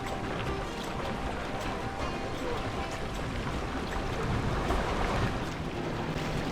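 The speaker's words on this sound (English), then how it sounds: "Quite a long log flume, this one." Rushing water from a long log flume ride in Planet Coaster keeps up a constant broadband wash with wind-like noise, swelling slightly toward the end, while a voice talks over it.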